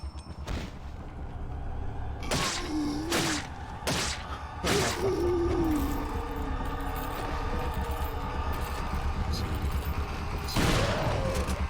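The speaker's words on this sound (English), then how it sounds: "So what I'm going to go ahead and do in this section is just empty my shotgun." Shotgun blasts from Resident Evil 4 HD, a handful of sharp reports spaced irregularly over a steady game ambience, with some whooshing and impact thuds between shots.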